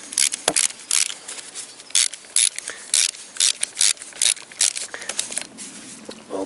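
A ratchet wrench tightens the eight flywheel bolts on a Toyota VVT-i engine, producing rapid bursts of close, crisp clicking repeated in short strokes with small pauses between them.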